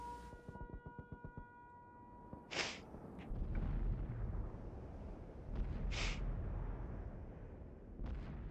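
Several heavy tank ammo-rack detonations in World of Tanks, deep booming blasts with bright cracks at the start, rolling into long low rumbles, fairly loud with no voices.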